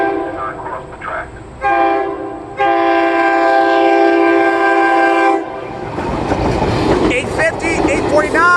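SEPTA train 5219 sounds its horn at a grade crossing on Lower State Road in two loud, close, sustained chords. Train rumble and crossing noise follow, with an automated crossing warning voice heard under the sounds.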